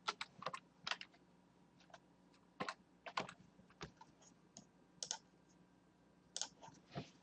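Computer keyboard keys tapped in short irregular bursts, crisp close clicks separated by brief pauses, with no talking.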